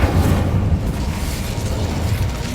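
Incendio fire spell cast in Hogwarts Legacy on PS5: a dense, continuous roaring rumble with a crackling, fiery texture, steady and loud throughout with no pauses.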